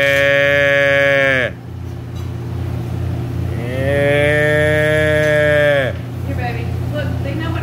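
Cows mooing at a Jersey dairy farm, two long, loud, drawn-out moos in succession, close by, with a low steady hum beneath.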